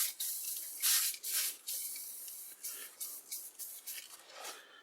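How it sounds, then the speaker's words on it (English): WD-40 sprayed from an aerosol can onto dry wood, several short hissing bursts in an uneven rhythm, close and fairly loud with no talking. "Maybe I should spray a little WD-40 on there."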